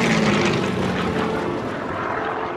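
A Harvard training aircraft's propeller engine drones loud and steady at an air show, a continuous close roar with no voices.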